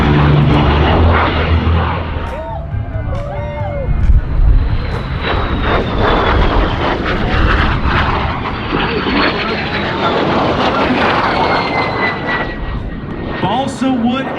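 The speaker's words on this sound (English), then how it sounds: "This was the first British operational single-engine jet fighter in the world, the de Havilland Vampire" A de Havilland Vampire single-engine jet fighter flies at the California International Airshow, a sustained loud jet roar with a slowly shifting whine, while a voice talks over it throughout.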